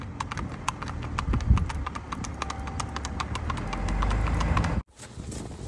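Horse hooves clip-clopping steadily at close range through a farm gate area, a regular rhythmic beat that stops abruptly near the end.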